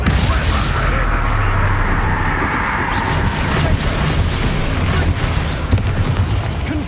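Booming magical blasts from the Bombarda explosion spell in the Hogwarts Legacy video game, a dense, continuous roar of impacts and rumble, with a voice faintly present in the background.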